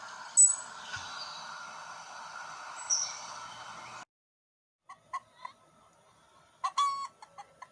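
A domestic hen clucks and calls in short, scattered bursts, with a few louder squawks early on, a pause, then sparse quiet clucks and a brief flurry near the end.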